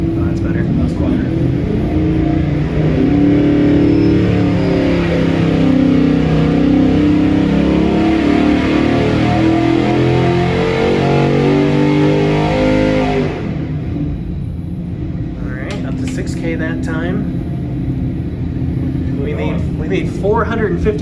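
A 5.3L LS LM7 V8 on a dyno, revving loudly with rising and falling engine pitch for about thirteen seconds before dropping off, followed by brief bursts of talk over a quieter rumble.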